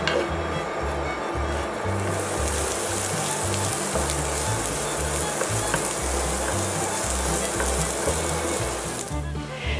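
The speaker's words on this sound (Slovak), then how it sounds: "Cibuľku mierne osmažíme." Chopped onion frying with pork cracklings in a pan, a steady dense sizzle that stays loud and even throughout, with a low rhythmic pulsing underneath.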